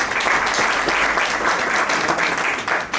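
An audience at the Karachi Moot Court Competition final claps loudly and continuously for a prize announcement, many hands merging into a thick, close applause that fades slightly at the end.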